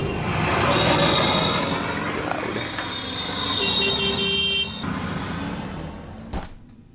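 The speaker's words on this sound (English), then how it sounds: "Let's do the traffic noise again." Recorded road traffic plays on the far side of cheap soundproof curtains: a steady muffled rumble of passing cars and trucks, a faint horn toot, and a sharp knock near the end.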